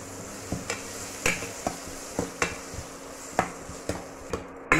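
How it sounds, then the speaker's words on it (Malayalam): Chopped medium-sized tomato goes into sautéed onions in a pan for a Kerala sardine fish curry, with a quiet sizzle under a dozen sharp, evenly spaced spoon taps and scrapes against the pan. "ഉള്ളി നല്ലവണ്ണം വഴണ്ടി വന്നിട്ട് നമുക്ക് അതിലേക്ക് കട്ട് ചെയ്ത് വെച്ചിരിക്കുന്ന തക്കാളി ചേർത്ത് കൊടുക്കാം."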